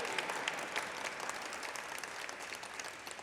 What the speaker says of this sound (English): If you're here watching them, give them a round of applause.